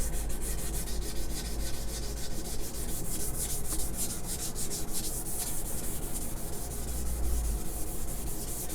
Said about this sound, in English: I'll do this for a few minutes here with the 600